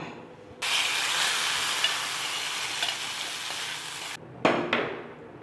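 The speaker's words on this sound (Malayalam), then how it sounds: "ഒരു സ്പൂൺ വെളിച്ചെണ്ണ ഒഴിച്ചു കുറച്ച് കറിവേപ്പില കടുക് താളിച്ചത് അങ്ങ് ചേർത്ത് കൊടുക്കാം" A tempering of mustard seeds and curry leaves in coconut oil is poured into a pulinkari curry, bursting into a loud, close sizzle that runs for several seconds, then a short clatter and a fresh hiss, with no talking.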